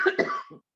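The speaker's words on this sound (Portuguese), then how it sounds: "eu estou um pouquinho atacada da tosse hoje" A single short, dry cough from a woman with a cough, close to the microphone, followed by a brief softer throat sound and then silence.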